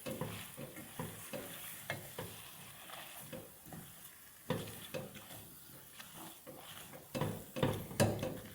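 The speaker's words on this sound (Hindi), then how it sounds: "और चीनी को मिक्स कर लेते हैं" Softened dates and sugar being stirred together in a pan for halwa, with a soft sizzle and repeated rhythmic scraping strokes of a spoon, fairly quiet and close.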